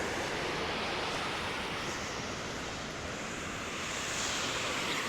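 River water flows steadily beside a vegetable garden planted with carrots, a broad continuous rushing wash heard alone at moderate level throughout, with a faint breezy edge.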